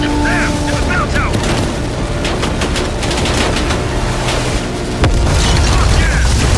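A loud RPG explosion booms inside a Call of Duty: Black Ops Cold War firefight, set against sustained gunfire and shouted voices; a fresh heavy burst hits near the end.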